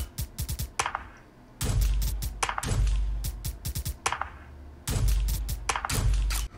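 Drum beat built entirely from Fortnite video game sounds: a steady, looping pattern of heavy thudding kicks under quick, crisp clicking hits, loud and dense, with no voices.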